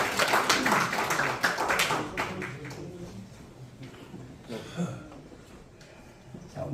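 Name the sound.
congregation applauding during gift presentation at church service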